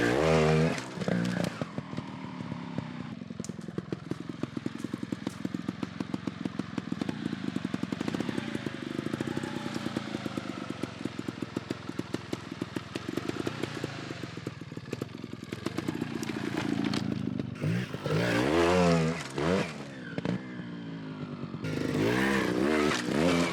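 A trials motorcycle, a big bike, works through a hill climb section, its engine revving and blipping unevenly with clattering, moderately close and fairly quiet, with no talk.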